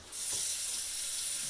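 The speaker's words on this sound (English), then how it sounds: "So I'm going to rinse this real quick." Tap water runs over a fresh pineapple being rinsed, a steady close hiss of water that starts abruptly and continues alone.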